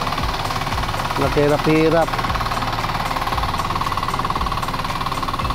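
A farm machine's engine chugs steadily in a field after plowing in Calatrava, Negros Occidental, a loud rapid knocking throb close by. A person speaks briefly over it.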